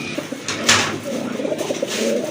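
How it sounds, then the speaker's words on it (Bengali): Black Gold Archangel pigeons at a busy pigeon market, giving soft, low cooing calls close by, with a sharper bird note and background market murmur around them. "আরেক জোড়া কবুতর দেখতে পাচ্ছেন, ব্ল্যাক গোল্ড আর্চেঞ্জেল কবুতর"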